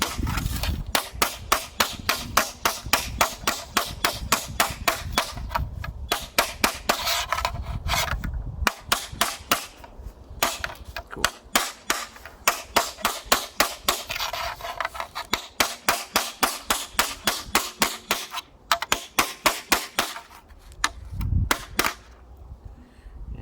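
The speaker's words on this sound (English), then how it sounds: "Feels like I need a bigger hammer." Rapid, sharp hammer blows ring out on the metal body of a Citroen 2CV under rebuild, loud and close in long fast bursts with brief pauses between runs.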